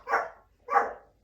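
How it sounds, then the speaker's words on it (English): A Pomeranian barks twice at close range, two sharp, loud yaps spaced about half a second apart, with quiet in between. "Excuse the barking pom."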